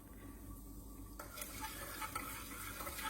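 A teaspoon of lemon juice squeezed into a beef meatball mixture, giving a steady close fizzing and crackling hiss that grows brighter partway through.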